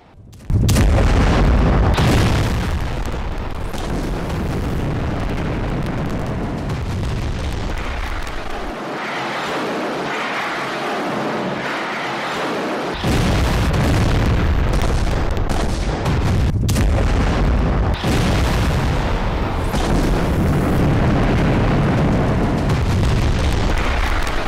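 Missile strikes on Hamas sites in Israeli air attacks produce a long run of loud, booming explosions, with heavy rumbling blasts and sharp bursts rolling one after another, a brief muffled lull midway, then more thunderous detonations.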